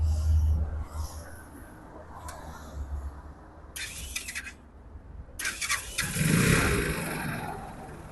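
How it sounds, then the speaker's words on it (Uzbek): A dump-body cargo motorcycle is started, its engine cranking and catching into a running idle with squealing, rattling bursts on top, loud and close throughout. "Samasval variantimizni hozir yurg'izdirib ishlatib ko'rsatamiz."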